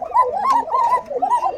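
Pigeons at a market stall give a close, clear run of soft, rolling coos, repeated in quick succession over a short stretch.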